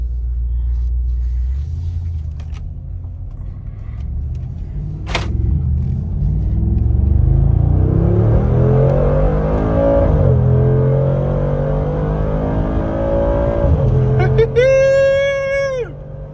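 A newly redesigned Mercedes G63 SUV accelerates hard, its engine rumble swelling and climbing steadily in pitch for several seconds before easing off, heard from inside the cabin.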